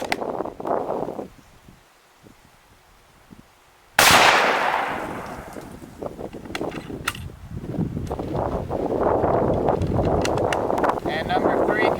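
A 7.92x57 rifle firing a 150-grain Speer hand load with RL-15 powder outdoors lets out one sharp, loud report after a quiet lull, with wind buffeting and rustling before and after it.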